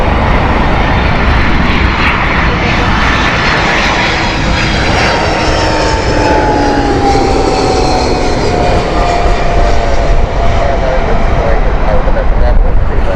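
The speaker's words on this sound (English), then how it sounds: "This is DHL's Airbus A300." A DHL Airbus A300 jet passing at Heathrow Airport, a loud sustained engine roar with a slowly shifting whine that swells and fades, while someone talks over it.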